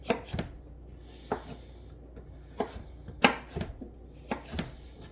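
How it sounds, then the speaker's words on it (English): A sharp knife chops down through elk skin on a board, about eight distinct thuds at an uneven, unhurried rhythm, close and fairly crisp with a short scrape after some strokes, and no one speaking. "Cut through the skin."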